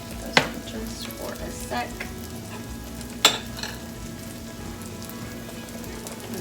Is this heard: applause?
no